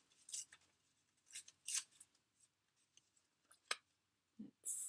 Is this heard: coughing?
no